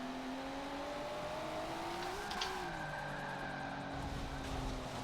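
Car engine in Forza Motorsport 7 played on a Logitech G920/G29 wheel, droning steadily with rising and falling revs and a brief tire squeal during an attempted drift, continuous and fairly close throughout.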